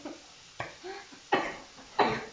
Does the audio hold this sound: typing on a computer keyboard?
no